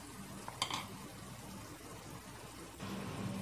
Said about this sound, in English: So add the potatoes and give a good mix.